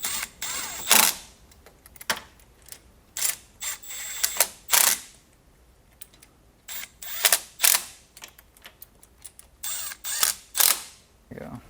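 Threaded parts of a CravenSpeed short throw shifter being hand-tightened, a series of short ratcheting, clicking mechanical bursts in irregular groups, close and fairly loud.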